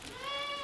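A goat bleats in one sustained, slightly wavering call, close and clear, at a village livestock sale during Holi.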